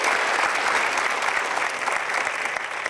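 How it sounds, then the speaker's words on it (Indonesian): A television studio audience applauds on an Indonesian talk show: dense, steady clapping from a crowd that stays loud and even, then fades slightly toward the end. Nobody speaks over the applause. "kita berikan aplaus untuk Louis Romero"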